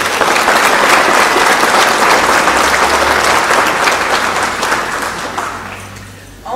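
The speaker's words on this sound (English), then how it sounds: "Please give them a round of applause" A crowd at a town anniversary celebration applauds local officials, a loud, thick, continuous roar of clapping that holds steady and then tails off near the end.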